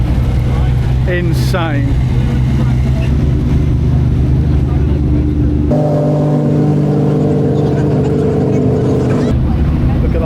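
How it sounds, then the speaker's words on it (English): Hypercars, including a Pagani Huayra and a Porsche 918, head out on track with loud engine drones that rise and shift in pitch, close and continuous, while someone talks over them. "All the hypercars are now heading out on track."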